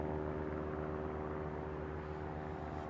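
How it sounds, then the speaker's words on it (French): A propeller or jet airplane passes overhead near an old stone aqueduct outside Aix-en-Provence, a steady droning engine rumble with tonal hum, moderately loud and unbroken, no talking. "Il y a encore un avion là qui passe."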